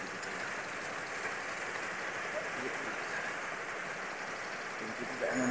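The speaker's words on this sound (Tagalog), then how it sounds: "sobrang lakas ng ulan dito sa amin." Heavy rain pours steadily in a dense, continuous hiss with no breaks, loud and close throughout.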